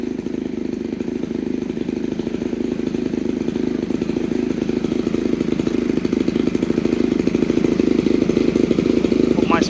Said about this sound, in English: Wait for the engine to warm up a little bit to around about 40 degrees before I start revving it.